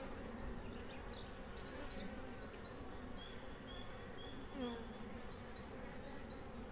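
Honey bees buzzing at an opened beehive during April hive inspection, a continuous faint swarm drone with individual bees whizzing past the microphone, no voices.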